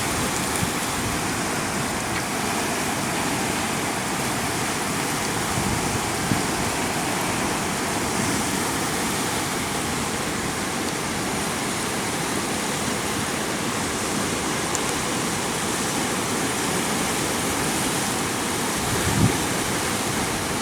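Loud, continuous roar of the Kalu River rushing fast in monsoon flood, dense and unchanging throughout, with no voices.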